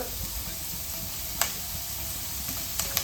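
Vegetables sautéing in a pan for a simple Kerala-style lunch: a steady, soft sizzle and hiss runs throughout. Two brief clinks of a spoon against the pan stand out near the middle and the end.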